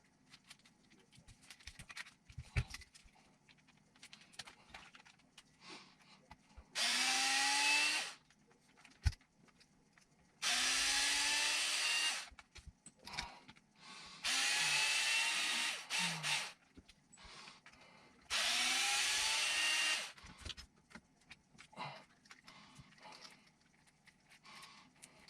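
A power tool whirs in four separate bursts of about a second or two each, working the steering knuckle off an Axial SCX6 Trail Honcho 1/6 scale RC crawler, with quiet handling clicks and rustles between runs.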